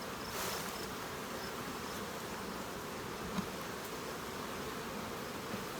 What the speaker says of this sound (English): Lots of bees in this box.